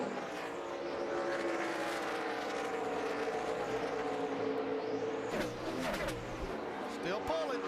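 NASCAR stock car engines roar at the Dover Monster Mile on the final lap of the 2012 AAA 400, a loud sustained drone with cars sweeping past, under excited race commentary.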